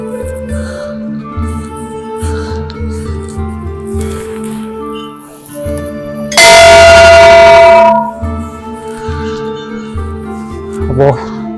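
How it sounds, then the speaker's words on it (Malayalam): A bell at the gate of the Shankaracharya temple, a hilltop shrine in the Zabarwan range, is struck once and rings loudly for about a second and a half before fading, amid ongoing ambient noise and voices. "അവിടെ ഒരു മണിയുണ്ട് അത് അടിച്ചോട്ടെ"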